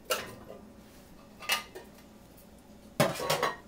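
Drained green beans tumble from a dish into a bowl in a few short clattering bursts, with a louder rattling pour near the end, no voices.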